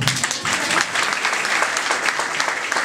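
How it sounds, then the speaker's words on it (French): An audience applauds at a youth conference session on digital careers, a dense, steady wash of clapping that fills the whole stretch without pause. "On applaudit le Bilia, non?"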